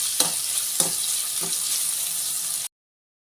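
Onions sauté in hot oil with cinnamon and cloves, a steady close sizzle broken by a few sharp taps of a spoon stirring the pan before it cuts off abruptly.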